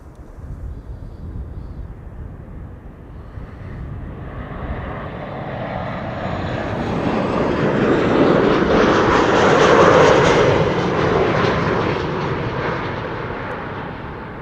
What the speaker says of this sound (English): This is Transavia flight 6334 arriving from Valencia, 737-800